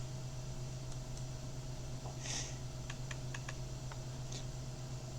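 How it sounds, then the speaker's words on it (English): Computer mouse clicking at a desk: a few quiet, crisp clicks, some in a quick cluster, over a steady low electrical hum. "that clicking sound of my mouse"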